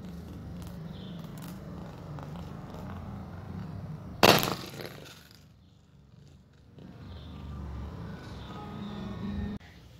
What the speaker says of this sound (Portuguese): o gelo espatifou quase tudo